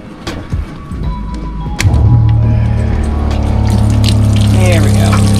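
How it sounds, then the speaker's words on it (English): A sailboat's water pump kicks on with a thud and settles into a steady, loud mechanical hum with running water, after a few faint knocks and clatters. "Water pumps on."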